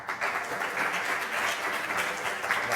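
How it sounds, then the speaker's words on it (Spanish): An audience at a presentation event claps in sustained applause, a dense, even wash of many hands clapping throughout with no speech. "Un fuerte aplauso para Óscar otra vez."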